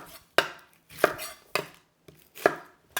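A knife dices a peeled onion on a cutting board, four sharp, evenly spaced chops, close and clear, with no talking.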